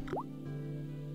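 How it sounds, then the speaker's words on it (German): A dripping water tap in the Broken Sword adventure game: a single clear drip lands with a rising plop, followed by a steady low hum of background ambience. "Ich drehe den Wasserhahn so fest zu, wie es nur geht, aber er tropft weiter."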